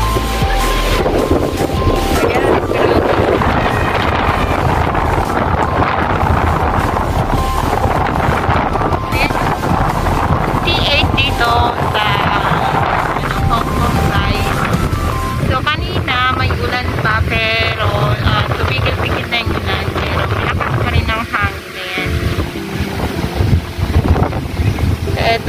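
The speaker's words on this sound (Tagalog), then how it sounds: "Grabe ang hangin." Strong typhoon wind in Hong Kong, a loud continuous roar with heavy buffeting against the microphone, with voices talking underneath.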